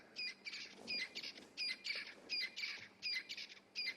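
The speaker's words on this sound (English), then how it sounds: "can hear the sound of a crested francolin making quite a noise around us at the moment" A crested francolin calls at Djuma in Kruger National Park, South Africa, a loud series of rhythmic, raspy squawking bursts repeating rapidly at close range.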